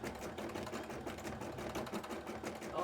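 An embroidery machine stitches steadily, its needle hammering in a fast continuous rhythm, close and fairly loud with no pauses, while running nearly out of bobbin thread near the end of a sequin embroidery job.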